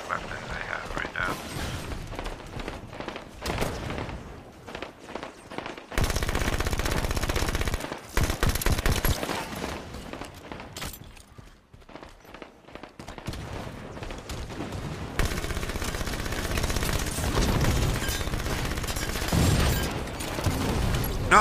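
Bursts of SMG fire in Halo 5: Guardians, rapid rattling automatic shots in several long stretches separated by quieter gaps.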